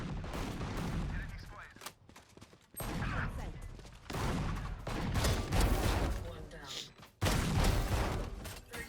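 Dense bursts of gunfire and shotgun blasts in Valorant, loud overlapping volleys broken by a few sudden short silences, with a muffled voice faintly underneath.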